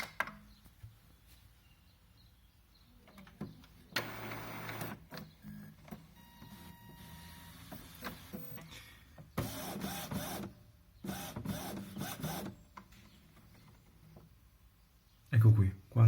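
An Epson XP-342 multifunction printer powering up gives several bursts of mechanical whirring and clicking, with quiet pauses between them. A person talks over parts of it, and a louder thump comes near the end.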